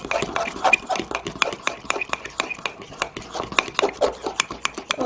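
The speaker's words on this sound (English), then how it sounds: "I'm just going to stir" Chocolate mug cake batter being stirred in a mug with a utensil, a quick run of close scraping and clinking strokes in an uneven rhythm. A voice speaks faintly at times.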